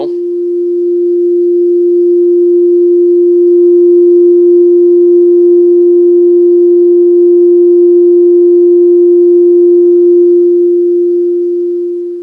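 A steady pure tone near 350 Hz sounds for tuning a violin plate, holding at an even, loud level for about twelve seconds with faint upper partials and no talking.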